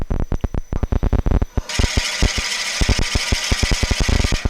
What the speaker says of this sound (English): for drilling this, I'm going to turn my speed up maybe to around 400 RPMs